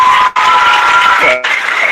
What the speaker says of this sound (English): I got to stop the applause.